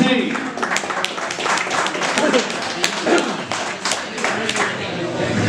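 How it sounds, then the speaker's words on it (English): Clapping from a crowd at a brewing show fills the space, dense and steady, with voices mixed in beneath the applause. "give another huge round of applause for Dean Fontaine."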